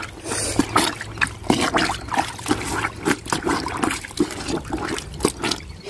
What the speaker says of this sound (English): Now I'm rinsing the soap and everything out.